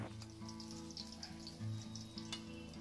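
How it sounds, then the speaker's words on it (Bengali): Koi fish frying lightly in mustard oil gives a steady, close sizzle with soft crackles and spits running throughout, and a low hum sits beneath it. "মাছগুলো খুব বেশি কড়া ভাজা হলে খেতে ভালো লাগবে না"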